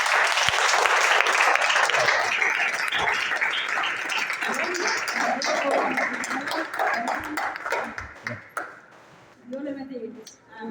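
A church congregation bursts into dense, loud applause for the Lord after a prayer, clapping steadily for several seconds before tapering off as a voice starts to speak.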